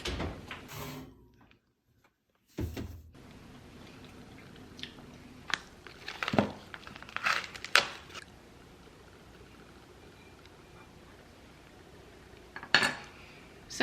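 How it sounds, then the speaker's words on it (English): A metal baking pan of blondies slides into an oven, giving a few clattering knocks and scrapes followed by a soft door thump, fairly quiet and close, with no talking. "So I'm gonna pop this into the oven"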